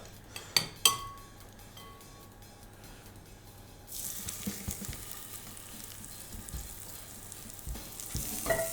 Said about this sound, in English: You can tell it's nice and hot. So I'm gonna add the tofu right to it.